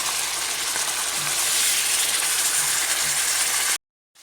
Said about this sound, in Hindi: अब हम इसमें बेसल लीफ डाल के और चिकन डाल देंगे और चिकन को अच्छी तरह से हम भून लेंगे